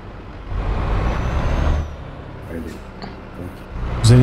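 A truck in Euro Truck Simulator 2 pulling away slowly: a loud hiss of air brakes releasing over the engine's low rumble, then quieter idling, with a sharp burst of mechanical noise at the end.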